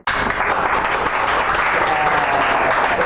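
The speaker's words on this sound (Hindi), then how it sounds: "ताली बजा दिया" Hand-clapping applause rings out loud and close, a dense, sustained patter from a group that begins abruptly and carries on without pause.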